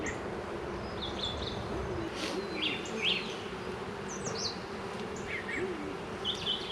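Honey bees buzz around a small, not very strong hive colony being split into mating nucs, a steady dense hum with faint bird calls in the background.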